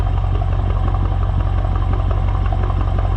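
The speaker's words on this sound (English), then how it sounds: "This is the AWE track exhaust, and you can hear it." A 2018 BMW M5 fitted with an AWE track exhaust idles close by, a loud steady low rumble with a fast regular pulse and faint mechanical clatter, heard alone.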